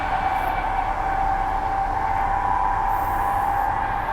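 Transperth A-series electric train running on the Armadale line, heard from inside as a steady, loud rolling rumble with a sustained motor whine throughout, no voices.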